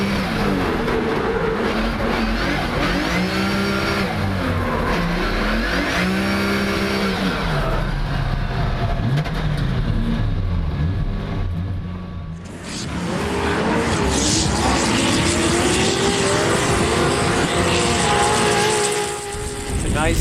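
Roaring engines of 1,000 horsepower Formula Drift cars competing in Texas, a loud, sustained rising and falling engine howl with tire squeal, while a person talks over it.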